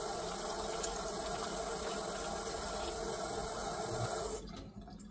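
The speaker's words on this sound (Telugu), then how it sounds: "దీంట్లో వాటర్ నింపేసి కొంచెం సాల్ట్ వేసుకోవాలి." Tap water runs steadily into a bowl of cut baby corn, a continuous close rushing splash that stops abruptly near the end.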